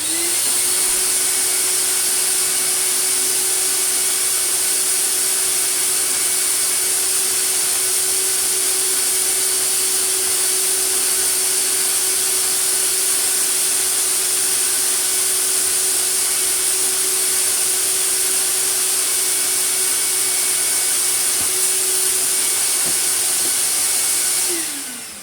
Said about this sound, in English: we'll give this filter a vacuum off with this